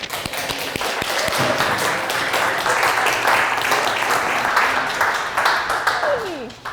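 A reception audience at a political cartoon pop-up exhibit applauds steadily and fairly loudly, dense clapping sustained throughout with a faint voice or two underneath.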